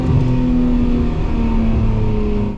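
Nissan R34 GTR engine roaring loud and close, held at steady high revs through a flat-foot shift with a continuous harsh, buzzing drone, no speech.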